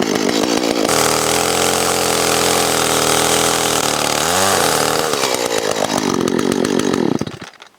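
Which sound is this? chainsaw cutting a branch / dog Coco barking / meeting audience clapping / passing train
chainsaw cutting a branch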